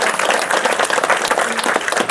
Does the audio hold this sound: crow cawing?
no